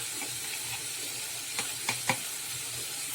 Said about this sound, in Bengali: দিয়ে উচ্ছে আলুটা ভালো করে ভেজে নেবো